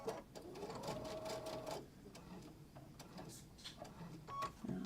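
Sewing machine stitching a messenger bag, a steady mechanical whirring run for under two seconds followed by lighter, intermittent stitching, with faint speech.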